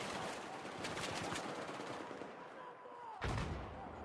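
Gunfire in the video game Battlefield 4, rapid bursts of automatic fire close up, then a quieter stretch and a sudden heavy blast near the end.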